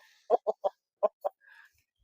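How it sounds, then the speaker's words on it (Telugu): A hen on a farm gives five short, distinct clucks in an uneven rhythm, followed by a softer drawn-out call, close and fairly quiet against a silent background. "ఒకటి పెట్ట కూడా ఉంది."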